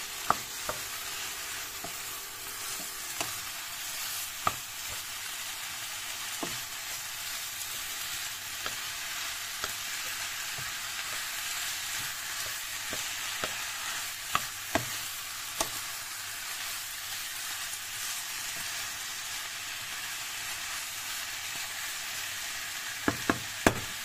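Chicken breast and vegetables frying in a pan, stirred with a utensil: a steady sizzle runs throughout, broken by sharp scraping clicks against the pan at irregular intervals, close and moderately loud, with no talking.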